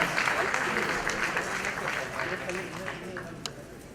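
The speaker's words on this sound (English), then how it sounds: "let's give everyone a round of applause, ladies and gentlemen" Audience at a World Hepatitis Day 2019 event in a hall gives a steady round of applause, dense clapping that starts loud and slowly fades.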